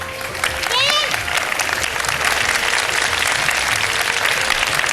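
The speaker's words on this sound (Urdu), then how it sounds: "یہ لوگ تالیاں بجا کر بتائیں کہ یہ جن کے خیال میں یہ اچھا بنا ہوا ہے" A studio audience claps in a sustained burst of applause on an iftar cooking show, loud and close. A voice speaks over the clapping near the start.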